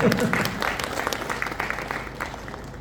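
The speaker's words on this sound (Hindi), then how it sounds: "अपने बच्चों के लिए तालियां बजा दीजिए थोड़ा सा" Audience applause for their children at a coaching-class orientation program, a moderate patter of clapping from a seated crowd that begins loudly and slowly fades, with a voice briefly audible at the start.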